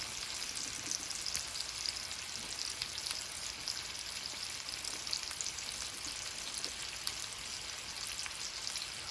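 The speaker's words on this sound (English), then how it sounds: "So we're going to get a nice sear on both of these sides." Surf and turf sears in a hot pan for a birthday dinner, a steady, dense sizzle and crackle of frying that carries on unbroken with no talk.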